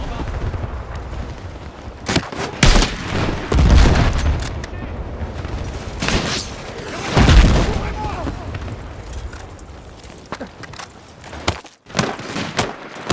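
Battlefield 6 combat: heavy gunfire and booming explosions in loud repeated bursts, with deep thuds and sharp cracks layered over constant battlefield noise and talk.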